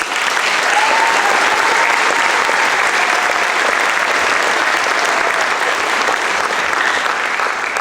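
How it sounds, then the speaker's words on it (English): High school graduation crowd of families clapping for graduating students, dense sustained applause filling a large space, loud and continuous throughout. "So families, let's clap it up for these students."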